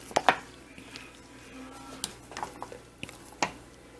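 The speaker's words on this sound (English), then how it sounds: "Now you just want to give them a little stir to get some of those spices incorporated." Filled jars of black beans and spices being stirred, with a handful of light clinks and scrapes scattered across the moment, close and quiet, with no talking.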